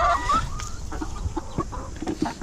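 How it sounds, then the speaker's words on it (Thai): Backyard laying hens clucking and squawking in short, scattered calls, fairly close, with a louder agitated call at the start. "เนี่ยคือไก่ไข่นะครับ"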